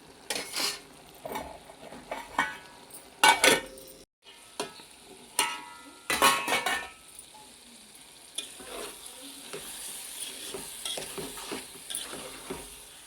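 Curry of cucumber and drumstick pieces frying and being stirred in a pan, with close sizzling and bursts of spoon scraping and clatter against the metal, settling into a steady simmering hiss toward the end.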